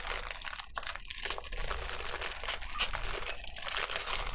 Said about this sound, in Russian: Разрезаем пакет.